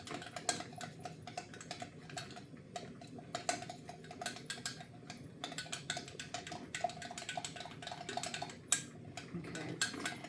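Cacao being stirred with liquid into a smooth paste, a spoon tapping and scraping against a cup in quick, irregular clinks and rattles, close up throughout without talk.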